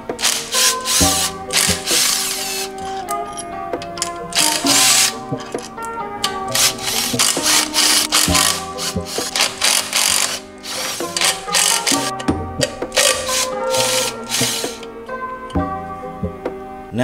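A ratchet works on the intake manifold bolts of a Genesis Coupe 3.8, with quick repeated clicking bursts and metallic ticks, close and fairly loud, in stop-start rhythm.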